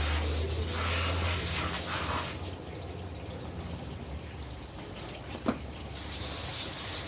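A steady hiss of water spraying onto a bike runs throughout, shifting in tone partway through, with a short knock near the end and no talking.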